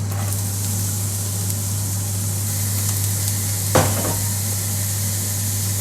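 Onions sizzle in a pan after the drained beef has been removed, a constant close hiss over a low steady hum, broken by a single brief clatter partway through.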